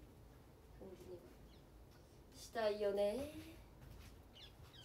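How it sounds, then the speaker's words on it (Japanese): Small birds chirping outdoors, faint in the background: a short call early on, then a brighter, louder burst of trilling chirps midway, under someone speaking quietly. "鳥が鳴いている、かわいい。"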